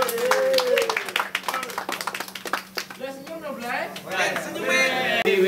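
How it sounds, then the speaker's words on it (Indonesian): An audience at an urban street art event claps in a scattered burst of applause while people chatter and voices talk over it nearby. "Kasih tepuk tangan dulu dong."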